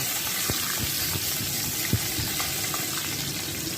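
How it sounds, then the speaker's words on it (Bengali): Onions and bay leaf sizzle steadily in hot oil in a pan, a constant close frying hiss with a few faint pops and no talk. "পেঁয়াজ ঢেলে দিলাম।"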